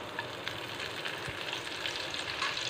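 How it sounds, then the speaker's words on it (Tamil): Curry leaves and fennel sizzling in hot sesame oil, a soft, steady crackling fry at close range with no talking. "இப்போ கருவேப்பிலையை சேர்த்துக்கலாம்."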